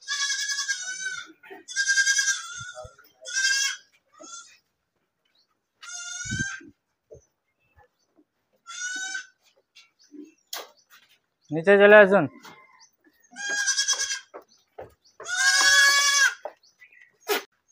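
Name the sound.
goats bleating on a goat farm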